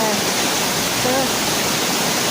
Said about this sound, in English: you see waterfall already